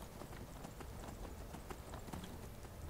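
Horse hooves clip-clop steadily in Skyrim, a continuous run of close, even hoof strikes over dense ambient game sound, with no voices.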